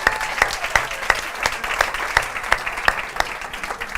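A late-night talk show studio audience claps in steady unison, crisp beats landing about three times a second over a light wash of scattered clapping.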